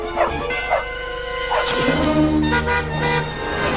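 A cartoon dog in an animated series gives several quick, high yips and barks, loud and close, over a steady background hum and music.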